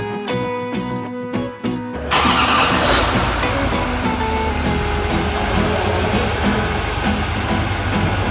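GMC AT4 3500 pickup truck engine cranking and firing up, with a sharp start that settles into a steady, loud idle, close by, after a brief stretch of music.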